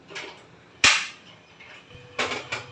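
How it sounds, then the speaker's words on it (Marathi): A pressure cooker lid is fitted shut with a sharp metallic clank, then two quicker clicking knocks as it locks, close and distinct over a quiet background. "कुकरला मी झाकण लावून घेते आहे"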